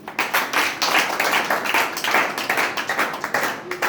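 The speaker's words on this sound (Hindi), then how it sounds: "तो सभी गुरुओं के लिए पुनः ताली बजा दीजिए।" An audience at a Guru Purnima gathering claps in honour of the gurus: dense, rhythmic bursts of many hands, close and lively throughout, with a little voice underneath.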